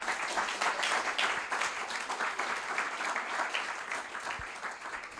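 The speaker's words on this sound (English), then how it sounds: "So they deserve an applause just for that." An audience at an Italian theater festival presentation gives sustained, dense applause, loud and continuous for several seconds without letting up.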